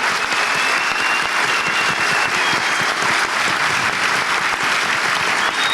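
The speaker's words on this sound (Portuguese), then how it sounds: "salva de palmas para ela" Sustained audience applause at a career-planning conference talk, dense steady clapping from a large crowd filling the room without a break, no voices standing out.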